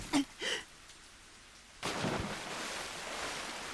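Rain falling in the Higurashi When They Cry video game, a steady broadband wash that starts abruptly partway through and keeps on at moderate level, preceded by a few brief isolated sounds.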